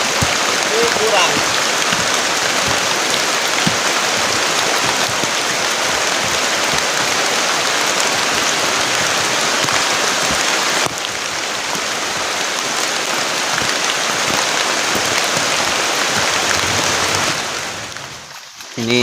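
Heavy rain pours down in a forest in a dense, continuous hiss that stays loud and close for most of the time, then eases off slightly near the end.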